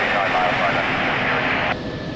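Airliner departing Lisbon Airport, its steady broad engine roar sustained throughout before dropping slightly in level near the end, with an air traffic controller's radio voice talking over it.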